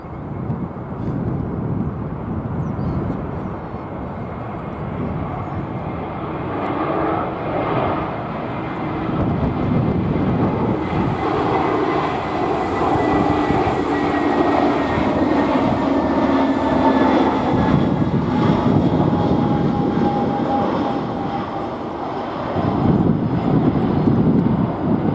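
A British Airways A321 airliner at Heathrow gives a loud, sustained jet roar that swells and holds for the full stretch, broad rumble with a rising whine, no talk over it.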